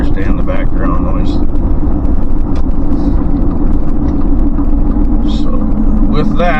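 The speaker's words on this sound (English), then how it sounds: "with all the background noise of everybody working on their cars" Steady workshop din from cars being worked on in an auto shop class, a dense continuous rumble with faint clanks and distant voices mixed into the background.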